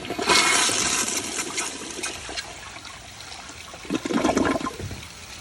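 Kohler Kingston water guard toilet flushing on 1.6 gallons: a loud rushing gush that eases into swirling, trickling water, then a second surge of refill near the end, with no speech.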